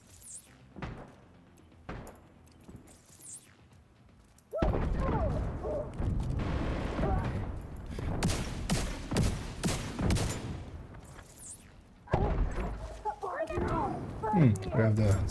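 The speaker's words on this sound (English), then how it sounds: "Explosions and everything are sounding muted." Muffled explosions and bursts of gunfire in a video game set around a castle, with a quiet opening and then a sustained barrage of dull booms and rapid shots, cut off abruptly and followed by further clatter.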